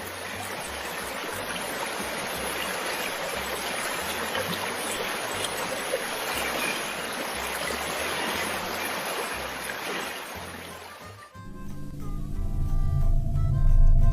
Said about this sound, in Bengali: নদীর কাছে তো চলেই এলাম